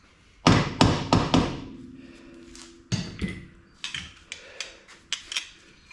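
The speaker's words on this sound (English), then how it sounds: "Got the dead blow hammer." A dead blow hammer strikes during a workshop wheel-bearing job, first in four loud, evenly spaced thuds, then a gap and a scattered run of lighter knocks and taps. No one speaks.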